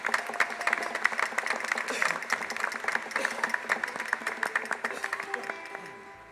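Sustained applause from a large audience, steady dense clapping that carries on for several seconds before tapering off at the end.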